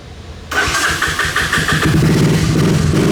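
The engine of a neglected 1986 Honda ATC250 Big Red three-wheeler cranks and then catches, settling into a loud, close, rapid mechanical chugging that stays steady and uneven, with no talking.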